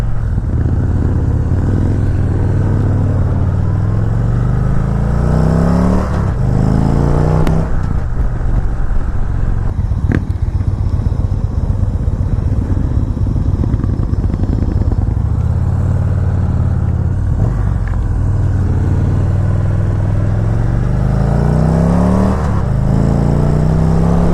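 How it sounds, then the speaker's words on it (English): A 2017 Victory Magnum motorcycle's engine and exhaust under riding, a deep, loud rumble that rises and falls through several revving accelerations and gear changes, with wind and clatter over the steady low drone. "The exhaust sounds great on this bike."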